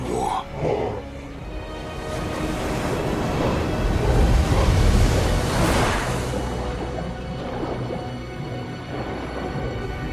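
Ocean waves foam and churn in a freighter's wake, a broad roaring wash that swells and surges, loud and close with a gusting, rumbling texture.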